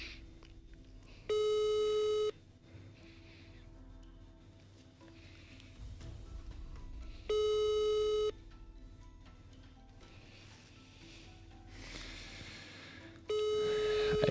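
A telephone busy signal repeats with three evenly spaced tone bursts of about a second each, separated by long gaps of quiet room background, all at moderate level with no speech.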